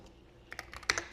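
Quick, light keystrokes tap on a computer keyboard nearby, a short irregular burst of clicks after a brief quiet moment, with no voices.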